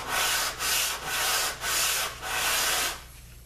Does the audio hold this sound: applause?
no